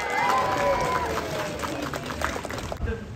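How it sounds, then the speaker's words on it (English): Audience at a safari park show cheers and claps, a broad crowd roar fairly near, mixed with a voice speaking over a loudspeaker. "So let's give a big cheer as he jumps in."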